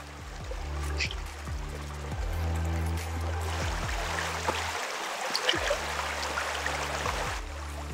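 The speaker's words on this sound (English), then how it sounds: "And then you've got the babbling creek and it's just ethereal." A babbling creek flows through a fern-lined canyon in Redwood National Park, a steady rushing trickle heard up close, partly masked by a low humming drone with rhythmic pitch sweeps.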